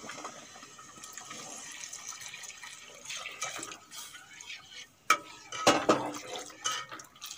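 Dissolved milk is poured into a pot on the stove while making Bengali mishti doi: a soft, steady liquid pour with faint clinks of the pot and utensils.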